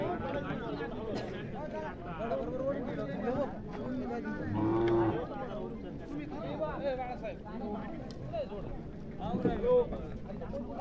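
A bull moos loudly several times at a rural horse and bullock race ground, one long low call standing out near the middle, with crowd chatter and voices talking throughout.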